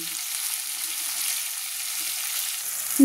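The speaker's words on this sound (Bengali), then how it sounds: "পেঁয়াজটা দেখুন লাল লাল করে ভাজা হয়ে এসছে" Salted onions fry on a medium gas flame for Bengali bata fish jhal, giving a steady, even sizzling hiss that stays unbroken throughout, with no talking.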